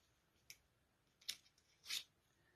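Scissors snip paper flowers in three quick, close cuts, the last one longer and crisper, alone in a quiet room.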